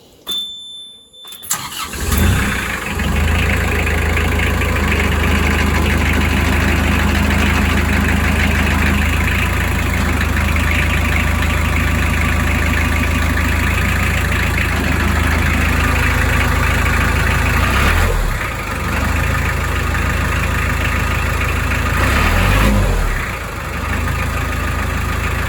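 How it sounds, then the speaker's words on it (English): A car engine idles steadily and loudly close by, with a low droning hum and a rattle from a noisy drive plate, the level dipping briefly twice before settling again. "Alfie has come in with a noisy drive plate"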